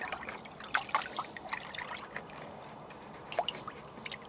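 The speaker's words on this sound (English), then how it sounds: "So we'll just stir it around a bit, get it all to dissolve" A molasses fertiliser mixture is stirred in hot water, giving soft intermittent sloshes and trickling swirls of liquid at close range, quiet and irregular.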